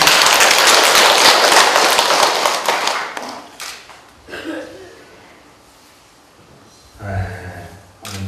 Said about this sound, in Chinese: 我们掌声欢迎